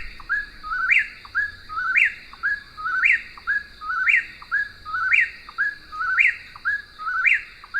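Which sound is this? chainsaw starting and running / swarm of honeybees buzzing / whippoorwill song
whippoorwill song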